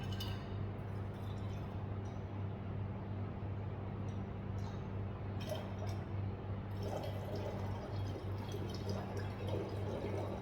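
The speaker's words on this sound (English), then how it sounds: "measuring 500 ml of deionized water, that is distilled water," Deionized water poured into a glass volumetric flask in a lab, a quiet trickle with soft drips and faint glassy clinks over a low steady hum, no speech.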